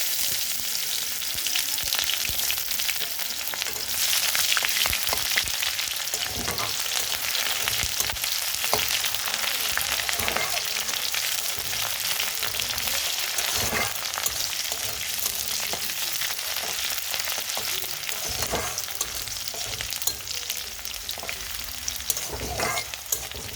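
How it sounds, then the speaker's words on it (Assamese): Onions sizzle steadily in a pan with oil for khichiri, alongside cardamom, with occasional stirring scrapes under a continuous close frying hiss and no talking. "মই পিঁয়াজখিনি অলপ অলপ ৰঙা পৰাকৈ ভাজি ল'ম।"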